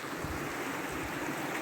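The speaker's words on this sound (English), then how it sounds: "Water's flowing pretty well." Steady rushing river water flowing past big logs jammed against a small weir or falls on the Waterfall Way near Ebor, a continuous broadband wash close to the microphone with no voices.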